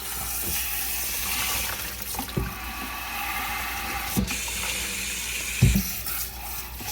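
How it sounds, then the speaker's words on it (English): Tap water runs steadily into a sink to rinse a part from a UWANT wet-dry vacuum cleaner, with occasional clunks as the piece is handled under the stream. "Turn my water on"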